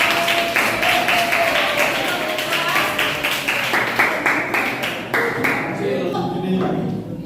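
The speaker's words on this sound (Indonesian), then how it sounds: "Tepuk tangan untuk kelompok 2." A school classroom of ninth-grade students gives group two a round of applause, heard as a loud burst of rhythmic hand claps that gradually thins out toward the end.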